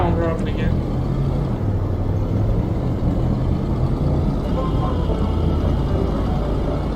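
A car drives on snowy roads during a freak snowstorm, its steady low engine and road rumble continuous and close, with an engine tone that shifts gradually.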